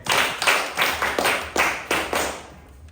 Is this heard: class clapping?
yes